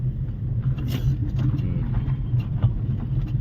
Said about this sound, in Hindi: चलो स्पीड बढ़ाएंगे और दूसरा गियर डालेंगे।